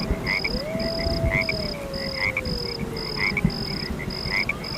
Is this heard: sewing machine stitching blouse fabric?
no